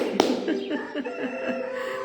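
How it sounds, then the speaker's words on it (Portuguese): A rooster crows at morning, a bright harmonic call rising sharply near the start and trailing off over about two seconds, close and fairly loud with steady background ambience. "olha o galo, ele acorda sempre alegre, né?"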